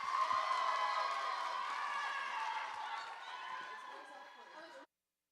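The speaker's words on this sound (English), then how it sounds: "So everybody give her one last round of applause." An audience at a state FFA convention cheers and applauds a scholarship winner, a dense steady wash of clapping and voices held for several seconds before cutting off abruptly.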